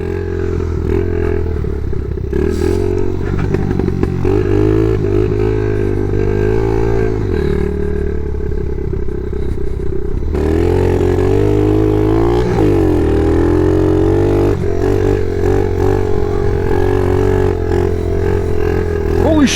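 A worn, clapped-out dirt bike with no brakes bouncing over rough ground with big holes, its engine droning loud and close throughout with rattling and clattering from the frame, revs rising and falling without a break.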